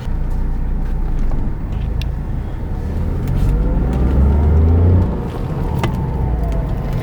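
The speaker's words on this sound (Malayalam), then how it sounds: "ഒരല്പം എൻജിൻ നോയ്സ് വാഹനത്തിനകത്ത് ഫീൽ ചെയ്യുന്നുണ്ട്" A Tata Tiago XT BS6 2020 car engine hums inside the cabin, its low drone rising in pitch as it accelerates, then dropping back to a steady rumble.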